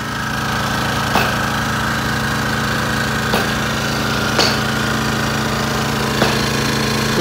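A mini soundproofed Japanese generator runs steadily with an even, humming engine drone, loud and close, with a few faint periodic clicks over the constant tone.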